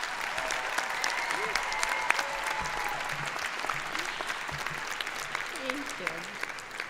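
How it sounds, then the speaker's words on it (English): Warm audience applause for master's degree graduates at a university commencement ceremony, steady dense clapping from a large crowd with faint voices mixed in throughout. "Let's give them a warm round of applause."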